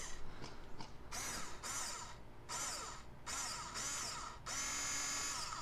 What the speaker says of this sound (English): right now I've got my Phillips bit and my little electric screwdriver